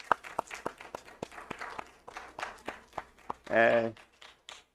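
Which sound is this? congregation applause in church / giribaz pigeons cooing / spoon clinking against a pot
congregation applause in church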